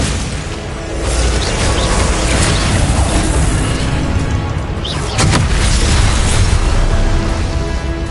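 Spells such as Confringo and Expelliarmus blast during combat in the Hogwarts Legacy video game, producing loud, dense and continuous explosive rumbling with a sharp crack near the middle.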